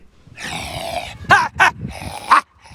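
A dog on a leash growls in a long rumbling stretch, then gives three sharp, loud barks spaced about a second apart, close by with no talking.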